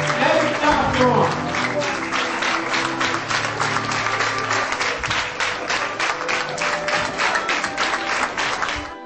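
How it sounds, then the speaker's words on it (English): A crowd applauds a barrister at a charity day event in Nigeria, with sustained, loud, rhythmic clapping and some voices mixed in throughout. "Come on, let's clap for him."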